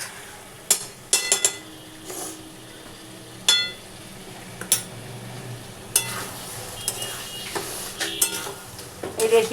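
Ghee goes into simmering aloo dum, bringing sizzling and a spoon stirring and clinking against the pot in scattered bursts, loud and close.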